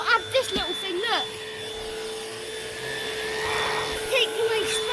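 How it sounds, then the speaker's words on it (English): Vax Pace pet vacuum cleaner running on carpet, a steady motor drone with a high whine, continuous and close, while a person talks over it. "What an incredible vacuum."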